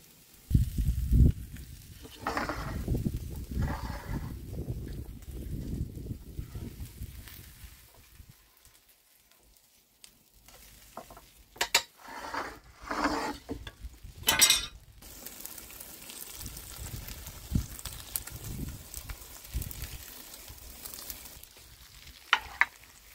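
A tomahawk steak cooks in a very hot wood-fired oven, with intermittent sizzling, clinks of metal tools and pan handling, close by and at moderate level, no talk.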